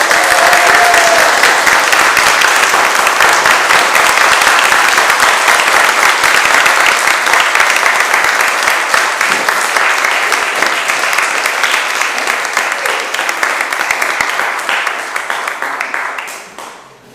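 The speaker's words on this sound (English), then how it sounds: "En wij gaan even applaudisseren." Sustained applause from a congregation in a church after wedding vows, a dense, loud wash of many hands clapping that continues steadily and then tapers off at the end.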